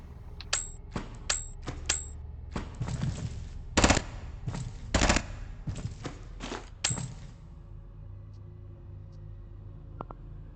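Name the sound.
submachine gun fire in video game Quasimorphosis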